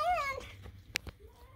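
An elderly house cat gives a clear, close meow at the start, followed by a few softer small sounds in a quiet room.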